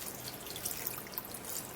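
Water pours steadily for boiling a belly-fat morning drink, a soft continuous hiss and trickle at close range with no talking.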